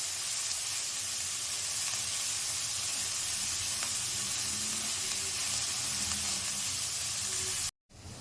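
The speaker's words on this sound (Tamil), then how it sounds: "வெங்காயம் வதங்கி வரட்டும்" Steady, dense sizzling of onions sautéing in a hot pan while cooking a spinach stir-fry, continuous broadband frying hiss throughout, cutting off briefly near the end.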